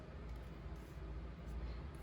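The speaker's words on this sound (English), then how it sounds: "Sorry about the noise in the background because of the fan" Electric fan running in a very hot room, a faint, steady broadband whoosh with a low rumble, constant and unbroken.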